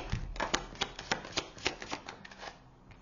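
Tarot cards being shuffled by hand, a quick run of crisp riffling flicks in steady rhythm, close and fairly quiet, with no talking.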